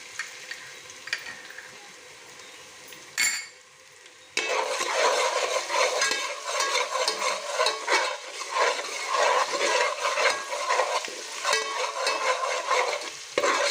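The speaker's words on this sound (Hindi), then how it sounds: "अब इसमें हम 1 चम्मच भर के अदरक लहसुन का पेस्ट डालेंगे।" Steady sizzling in a hot frying pan with repeated scraping strokes of a spoon stirring ginger garlic paste, close and continuous after a brief quieter start.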